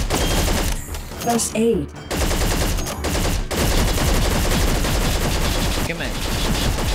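Video game gunfire from Attack of the Movies 3-D: Robot Rebellion, with dense rapid bursts of shots filling most of the clip, a brief lull near the start and a player talking over it.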